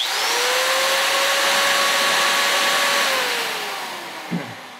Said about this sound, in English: This is actually a hammer drill and it has two speeds.